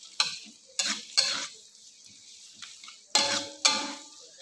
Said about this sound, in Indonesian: Kita masukkan bawang bombay. Biasa ini tumis dulu sampai berubah warna menjadi kekuning-kuningan.